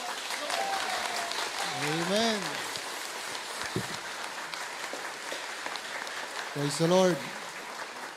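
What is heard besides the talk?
church congregation applauding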